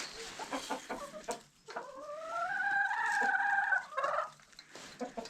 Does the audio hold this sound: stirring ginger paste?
no